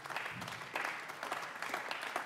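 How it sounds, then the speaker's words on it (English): Audience applause at an honors day recital, a steady wash of clapping that swells in waves over about two seconds at moderate distance. "Let's give her a round of applause, please."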